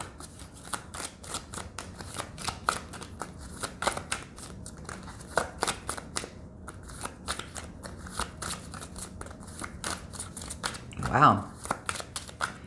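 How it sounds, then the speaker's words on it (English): Tarot cards are shuffled in repeated quick riffles and slides, close and crisp, with a brief exclamation from a voice near the end. "Very interesting to me how slow the cards have been to shuffle today."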